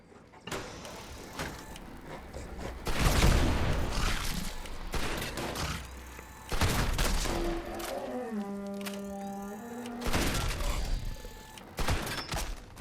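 Gunfire from a Gauss shotgun in Fallout 76 crashes out in several loud, broad bursts, with mechanical clanks and tonal electronic game sounds between the shots.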